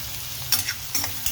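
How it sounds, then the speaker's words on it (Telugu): Onions fry in a pan as they are cooked to a light brown, giving a soft steady sizzle close by, with a few brief stirring scrapes on top. "ఉల్లిపాయలు కొంచెం బ్రౌన్గా వేగనిద్దాము"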